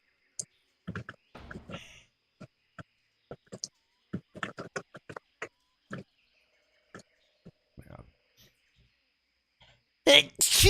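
A single sharp sneeze bursts out loudly near the end, after a stretch of halting talk.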